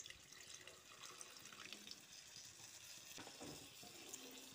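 About half a cup of water splashes into sizzling mutton and spices for Bengali rezala, a hissing, bubbling rush that flares midway and settles, with no voices.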